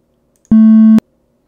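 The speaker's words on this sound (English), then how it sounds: "this is what's known in the audio world as clipping" A single clipped square-wave note from an LSDj Game Boy tracker, a buzzy half-second tone with hard abrupt start and stop, standing alone against silence.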